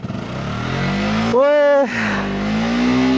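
A motorcycle engine idles with a low rumble, then revs sharply in a rising whine and drops back to a steady idle. Someone shouts briefly over it.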